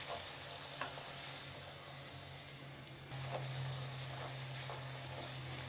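Poori deep-frying in hot oil while being pressed and turned, giving a loud, steady sizzle and bubbling that continues throughout with a few light scraping touches.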